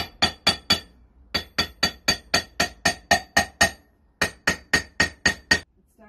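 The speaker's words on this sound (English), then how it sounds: "Kick the hammer out on top of this." Hand hammering on metal at a traveller's forge: sharp ringing blows in quick rhythmic bursts of four, then about ten, then six strikes, close and clear with short pauses between runs and no talk.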